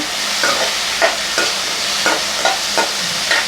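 Onion and tomato sautéing in a pan for black gram chutney, a constant hiss of frying broken by regular spatula scrapes about every half second, close up with no voices.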